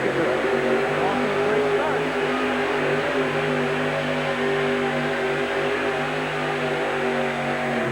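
A pulling truck powered by a big fuel-injected 552-cubic-inch Keith Black engine roars steadily at high revs at a 1987 truck pull in Tucson, Arizona, a loud sustained drone under an announcer's voice.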